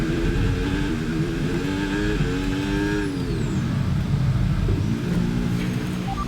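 An F1 car in a racing video game, driving a Cadillac at Hungary, rumbles loudly as it slows into the pit lane, engine note dropping and then settling into a steady low idle-like drone.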